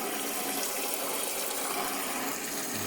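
Water rushing from an iSpring RCC7AK reverse osmosis filter system into a bucket, a steady, close, continuous hiss and splash with no talking.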